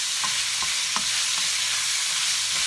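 Steady, bright sizzling of food frying in a pan, with a few soft scrapes of stirring, close and loud.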